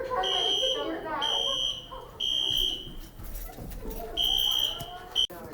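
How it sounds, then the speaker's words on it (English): Classroom fire alarm sounding in repeated shrill electronic beeps, loud and near, in several long bursts with short gaps, while students talk and murmur underneath. "Okay, so before the fire alarm,"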